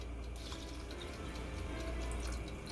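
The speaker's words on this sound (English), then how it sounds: "now I'm going to throw the water in" Water poured into a cooking pot while making rice with pigeon peas, a steady continuous splashing stream alone at close range.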